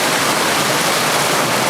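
Panther Creek rushing steadily where it runs into the Conasauga River, a dense, even roar of flowing water close by with no voices.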